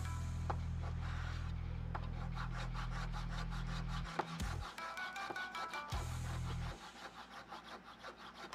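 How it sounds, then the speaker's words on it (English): A saw blade cutting a resin miniature base, with steady rapid back-and-forth rasping strokes that run continuously, close and loud, with a brief pause partway through before the sawing resumes. "Especially when resin's so easy to break. Could be just this saw blade."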